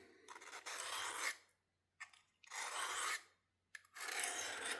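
Knife blade drawn along the edge of a Work Sharp field sharpener while reprofiling, three steady rasping strokes about a second long each with short pauses between, close and clear with no talk.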